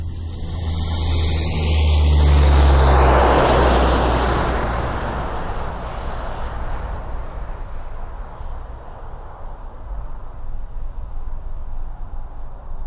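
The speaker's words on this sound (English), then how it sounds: "skier 9-1 is a faint rumble in the distance, taking off for an 8-hour flight over the ice shelf" Ski-equipped research aircraft taking off from the Williams Field runway on the Ross Ice Shelf, Antarctica: a distant, steady engine rumble swelling briefly near the start and then holding at a low, even drone.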